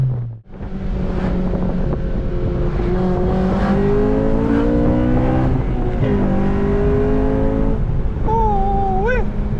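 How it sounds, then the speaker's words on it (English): An 8th-generation Honda Civic Si with a VTEC engine pulls hard in second gear. Its loud engine note climbs steadily over several seconds, shifts briefly, then keeps rising under steady wind noise. "I can do a little second gear pull."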